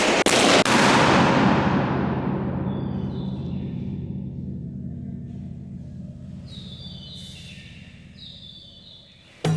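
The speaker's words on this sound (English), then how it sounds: "We recorded around 100 explosions in the chambers with our sound level meters." A balloon bursts inside an ancient rock-cut chamber at the Barabar archaeological site. The sharp pop is followed by a long, booming reverberation that slowly fades over many seconds, with a faint later sound and another burst at the very end.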